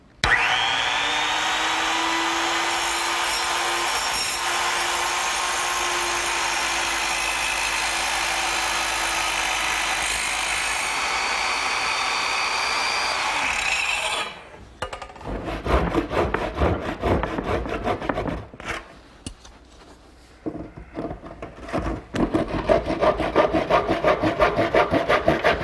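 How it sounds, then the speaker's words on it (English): A small circular saw screams through a wooden end panel for a long, steady cut to form a toe-kick notch. A hand saw then takes over with rhythmic rasping strokes, pausing briefly between bursts. "I'll cut most of it out with my little circular saw and clean up the rest with a hand saw."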